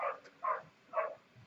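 A dog gives three short barks at an even pace, moderately close and fairly loud, in an otherwise quiet room where someone is painting with acrylics.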